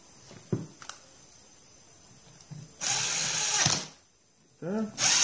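A power driver runs in two sustained bursts, then starts a third, driving small bolts into a part on a Stihl chainsaw being rebuilt, close and loud, with a few small clicks and knocks before and between.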